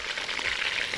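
Meat sizzling in a pan with spices as garlic and onion are added for a Saudi kabsa, a bright continuous frying hiss with faint stirring scrapes, close and steady.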